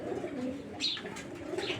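Racing pigeons coo softly and steadily in a loft, a low murmuring hum with a brief brighter note partway through, close by with no talk.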